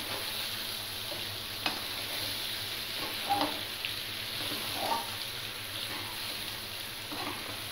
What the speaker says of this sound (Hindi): इसकी हम 5 से 10 मिनट भुनाई करेंगे